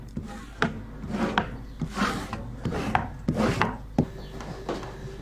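Repeated rough scraping strokes of a knife drawn over stacked animal skins during hand tanning, each pass a short rasping sweep in an uneven rhythm, close and moderately loud with no voices.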